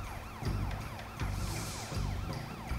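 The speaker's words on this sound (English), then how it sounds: "Can you uh, turn the sirens off now?" In the video game Sleeping Dogs, a police car siren wails in continuous rising and falling sweeps over low engine rumble, fairly close and steady throughout.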